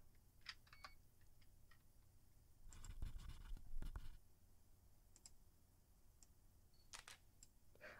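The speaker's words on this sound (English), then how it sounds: "The camera shutter was triggering itself." Camera shutter clicks in the game Dark Fracture, several sharp, quiet snaps scattered irregularly over a low background hum, with one louder burst in the middle.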